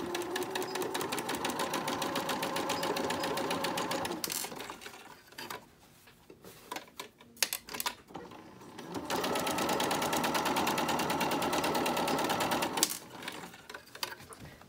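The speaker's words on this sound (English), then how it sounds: "I have my machine set between a 2 and a 3 on a straight stitch" A sewing machine runs a straight stitch on cloth face mask darts in two long, steady bursts of rapid rattling, separated by pauses filled with clicks and handling noises.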